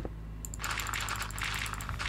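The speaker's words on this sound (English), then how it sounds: "So this is clicking way quickly." Rapid, continuous computer mouse clicking, a dense run of quick plastic ticks that goes on for about two seconds, close and clear with no talking.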